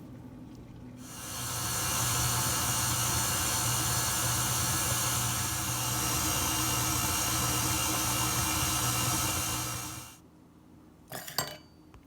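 A stand mixer fitted with a paddle churns zucchini bread batter, a steady motor whir with a faint rattle that runs for about nine seconds, then stops abruptly and is followed by a few light clinks.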